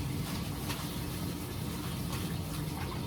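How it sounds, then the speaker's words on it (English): Hot water gushes from a tap into a bathtub, a steady loud rushing splash that holds constant and close throughout with no voices. "Let me go ahead and turn this water on."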